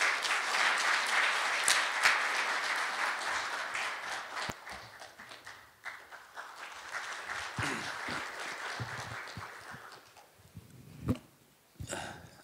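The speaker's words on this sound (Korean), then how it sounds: "큰 박수로 맞아주시기 바랍니다" Audience applause at a CEO forum lecture welcoming the head of a content agency to the stage: sustained, fairly loud clapping from a crowd that gradually thins out over about ten seconds, ending with scattered claps, thumps and room noise.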